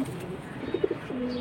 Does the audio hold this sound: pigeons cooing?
yes